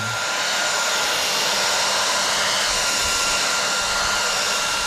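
A hair dryer blows continuously close by, a steady loud rushing whoosh with no change in pitch or strength.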